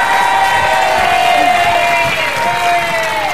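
A studio audience at an Indonesian TV game show cheers and claps for Bang Opi in a loud, continuous crowd roar, with shouting voices mixed in.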